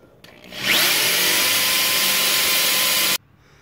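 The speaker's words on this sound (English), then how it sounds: "I'm going to lube up the spot that I marked off for drilling" A power drill spins up and bores into a lubricated beam during a suspension upgrade, a loud, steady high-pitched whine lasting a few seconds before cutting off abruptly.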